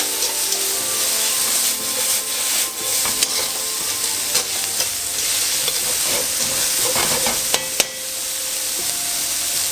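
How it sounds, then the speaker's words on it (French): Onions fry and get stirred in a pan for sukiyaki udon, giving a steady bright sizzle and hiss with occasional scrapes and clinks of the utensil, close and continuous with no talk. "j'ajoute mes oignons. Là, pareil, je mélange."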